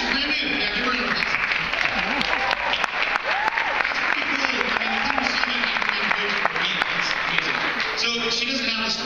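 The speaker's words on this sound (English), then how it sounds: "give her an applause" A group claps steadily for a brand-new coach, a continuous close wash of applause with voices calling out and chattering over it throughout.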